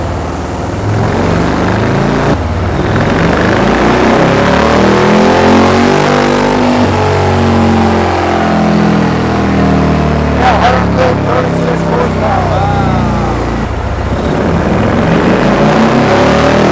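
A large Harley-Davidson motorcycle engine strapped to a dyno, revving hard through repeated rising and falling pulls, loud and close, with brief drops between runs and voices occasionally audible.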